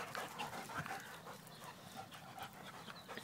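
A dog pants rapidly with faint whimpers while meeting a new dog in a park, a quiet continuous breathy rhythm set against outdoor background noise.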